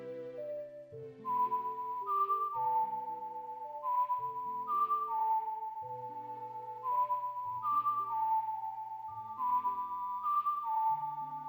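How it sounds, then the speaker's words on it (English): A lullaby plays as a clear whistled melody in Ocarina of Time, slow sustained notes repeating the phrase over soft accompanying tones. "Is she whistling?"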